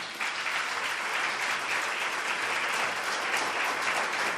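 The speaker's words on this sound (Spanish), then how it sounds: "Le damos un fuerte aplauso al Señor." A church congregation gives sustained applause to the Lord during a Spanish-language sermon, a dense, steady roar of many hands clapping throughout without letting up.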